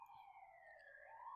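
A siren wails faintly in the distance, its tone sliding slowly and continuously.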